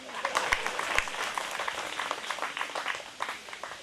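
An outdoor group of visitors on Mount Harriat claps together in a brisk, close ragged round with a few sharp individual claps, and some voices are mixed in.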